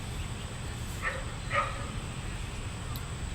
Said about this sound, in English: Somebody's doggy is...